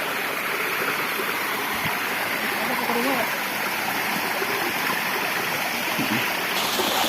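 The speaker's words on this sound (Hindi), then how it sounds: "पूरा झरना लाइव दिखाते हुए चलेंगे" An Uttarakhand waterfall roars in a steady, loud, unbroken rush of falling water, with a voice faintly audible under it.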